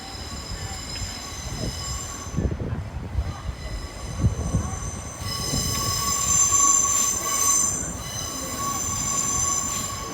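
A train, Class 97, rumbles past close by at Lincoln High Street level crossing with steady rail clatter and metallic wheel squeal, swelling louder in the second half.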